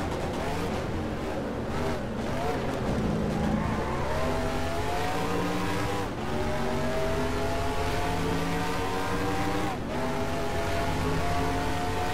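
Race car engine revving steadily at high pitch, rising and falling through gears as it drives, loud and continuous with no talk.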